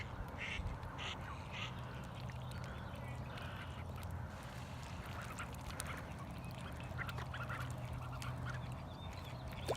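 Call ducks returning to a pond with their ducklings, giving scattered nasal quacks over steady outdoor background noise, fairly faint and without speech.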